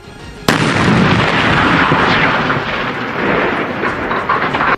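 A tall chimney is demolished with explosives: a sudden loud blast bursts in after a short quiet lead-in, then a long rumbling roar of debris and echo continues without fading much.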